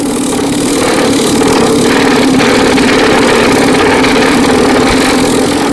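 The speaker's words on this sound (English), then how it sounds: "We will now compact the Armax MP into the hex mesh using pneumatic rammer" A pneumatic rammer pounds R-Max MP material into hex mesh, giving a loud, continuous, rapid hammering drone close by with no talking.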